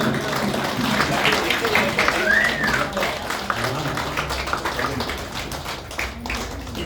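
A hall audience at a Kannada Rajyotsava event for a film team applauds the child actors with steady, dense clapping that carries through the whole stretch, with crowd voices mixed in.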